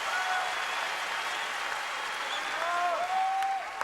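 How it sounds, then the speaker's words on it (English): A large tennis crowd applauds at the US Open women's final, Serena Williams against Samantha Stosur, in a steady dense wash of clapping that carries on throughout. "Here's the crowd waking up."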